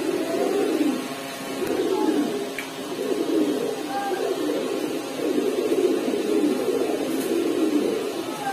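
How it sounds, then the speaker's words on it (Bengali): Silver fitki big-headed pigeons coo in a steady, overlapping run of low, throaty calls. The cooing is close and fairly loud throughout, with a few faint higher chirps mixed in. "বড় মাথার কবুতর, সিলভার ফিটকি করবা।"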